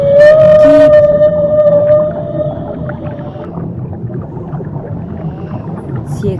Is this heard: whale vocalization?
yes